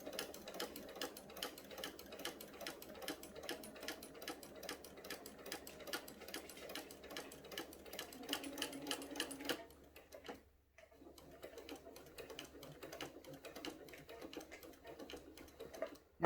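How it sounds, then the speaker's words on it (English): A sewing machine stitches binding onto a quilt in a fast, steady run of needle clicks, pauses briefly after about ten seconds, then resumes its even rhythm, quiet and close. "all we're going to do is just go ahead and sew that straight on down."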